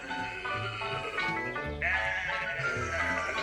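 A cartoon sheep from Teletubbies bleats in a series of wavering, nasal calls, loud and close, with a brief pause before a higher, stronger bleat carries on to the end.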